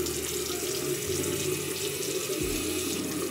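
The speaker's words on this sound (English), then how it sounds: "I'm about to wash my face" A bathroom sink tap runs steadily for washing the face, a close, even rush of water with a slight shift in flow partway through and no voices.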